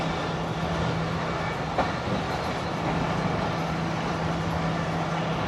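The Karakoram Express rolls slowly along the rails on a flood diversion route near Sahiwal, heard from on board as a steady low rumble with a faint hum and an occasional soft clack, no talking.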